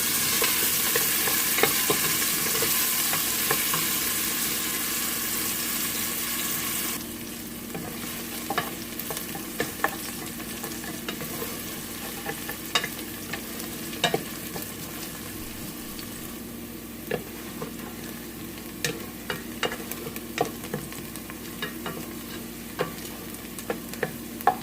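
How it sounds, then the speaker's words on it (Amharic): Onions fry in oil in an iron pot for a vegetable rice soup, starting with a bright, steady sizzle that drops to quieter frying punctuated by frequent sharp clicks of stirring against the metal. "ሽንኩርቱን ብረት ድስት ውስጥ አድርጌዋለሁ እና ዘይት ጨምሬ በዘይት አጥላለዋለሁ"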